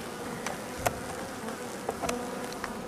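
Honey bees buzz steadily close by around a hive, a continuous droning hum with a few sharper passes of insects flying near.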